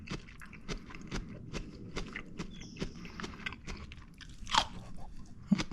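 Close crunchy chewing of tender-crisp spring asparagus dipped in handmade aioli, with steady repeated bites and munching and a few louder crunches near the end, no talk.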